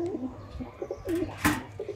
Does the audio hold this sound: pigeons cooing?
yes